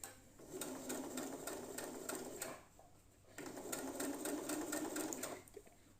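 A sewing machine stitches a straight line in two bursts of rapid, even needle clatter, each a few seconds long with a brief pause between, close and clear with no talk over it.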